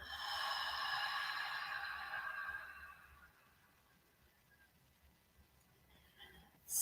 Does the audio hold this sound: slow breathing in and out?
yes